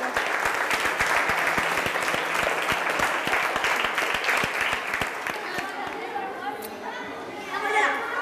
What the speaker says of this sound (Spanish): Y un aplauso para ustedes, por favor.